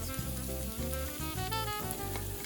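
A sauce mixture for pasta and meatballs cooks in a pan with a steady, close, dense sizzle that runs throughout without a break, and no talking.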